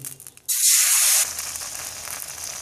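A sudden loud sizzle bursts out as patishapta pitha batter hits a hot oiled pan, then settles into a softer, steady frying hiss.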